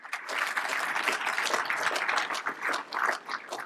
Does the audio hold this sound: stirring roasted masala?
no